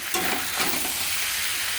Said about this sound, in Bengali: মশলার সাথে নেড়ে দিলাম